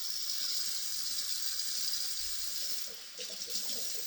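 Tap water pours steadily into a pot of beef stew, a close, continuous hiss and splash that shifts briefly near the end as the flow changes.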